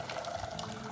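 Freshly boiled water from a kettle pours steadily into a cooking pan in a kitchen, a continuous close splashing gush with no voices.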